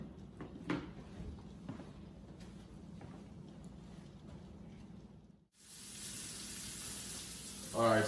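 Mangoes and cilantro sizzle in a hot oiled pan, a steady low frying hiss with a few clanks of utensils and cookware, falling silent briefly before a brighter, louder sizzle resumes.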